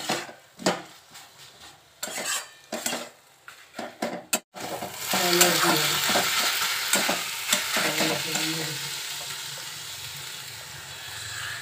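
Sajne flower curry is stir-fried in a pan, first with intermittent close clatter and scraping, then a steady, loud sizzle as the utensil keeps working through the vegetables.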